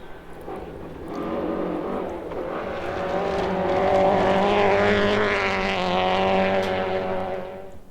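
Rally car racing on a Border Counties stage, its engine growing louder as it approaches and revving hard through gear changes before fading away into the distance.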